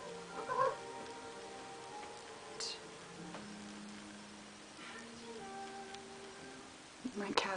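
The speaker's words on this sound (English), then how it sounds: "My cat's like right there" A cat meows indoors at home during a makeup session, with drawn-out tonal calls near the start and the end over a quiet room background.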